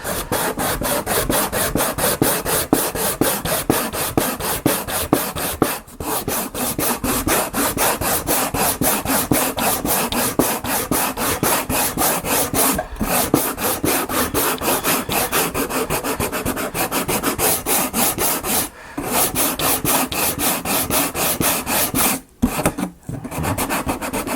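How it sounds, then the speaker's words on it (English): Continuous rhythmic rasping of wood being sanded by hand with a sanding stick, fast back-and-forth strokes, close and loud, with a few brief pauses. "it's perfect size for my sanding stick"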